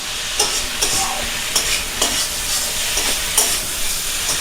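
Food stirred and fried in a pan at home, a loud continuous sizzle broken by repeated sharp scraping strokes of a spoon, close and without talk.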